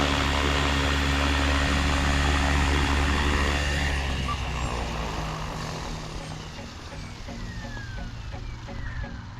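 A Trex 500X RC helicopter flies outdoors, a steady high-pitched rotor and motor whine that holds loud, then fades slightly as it moves farther away.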